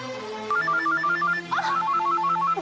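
A telephone rings with a looping electronic melody of quick stepped tones, loud and close, filling the clip alone in a Hindi TV comedy scene.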